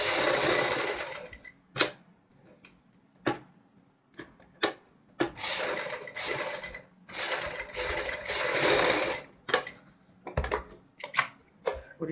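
Sewing machine stitching buckram along a kurti neck, running in short bursts of rapid mechanical clatter separated by pauses and single sharp clicks, close and alone.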